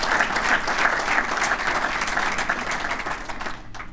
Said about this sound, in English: Let's give our senator a round of applause for being here.